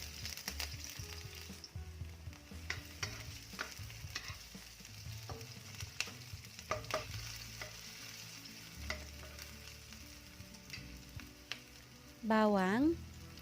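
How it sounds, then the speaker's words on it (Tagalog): Onions fry in a little oil for beef caldereta, an even close sizzle layered with intermittent stirring scrapes and light clinks, then a brief louder warbling tone near the end, with no voices. "Dagdagan ko muna itong mantika, konti. Ilagay ko na yung sibuyas."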